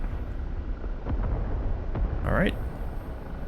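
A single rocket fired from an OH-58D Kiowa Warrior helicopter in the DCS World combat flight simulator: a sharp launch burst followed by a rising, whooshing tone, heard over a steady engine rumble while someone speaks briefly.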